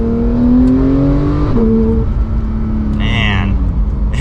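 A 991.2 Porsche 911 GT3 engine pulls hard from inside the cabin, its rising engine note climbing steadily, dipping at a gear change, then building again, loud and continuous with a voice briefly heard over it.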